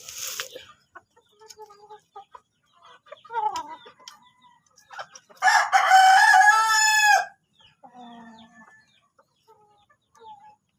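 Backyard chickens cluck in scattered short calls, then a rooster lets out one long loud crow in the middle, followed by more quiet clucking, close by with no talking.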